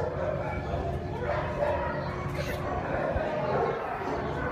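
Dogs at an animal shelter yip and bark in a busy, reverberant kennel room, their calls mixing with constant background din while someone talks over them.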